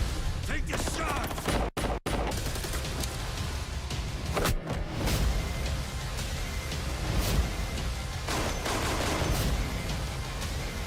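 Gunfire in an action movie trailer: sharp shots and bursts over a dense, loud score, with brief silent cuts between scenes.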